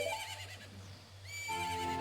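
A horse neighs in the video game The Legend of Zelda: Ocarina of Time, a bright wavering whinny that pauses and then comes back, heard alone against steady background music.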